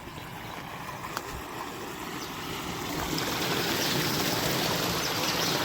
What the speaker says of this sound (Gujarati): પાણી આવે જોરદાર અટાણે.